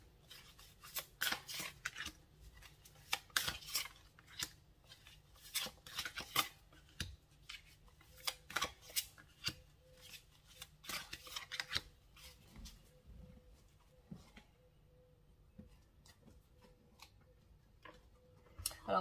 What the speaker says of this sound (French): je vais les tirer comme ça parce qu'elles sont assez grosses, ces cartes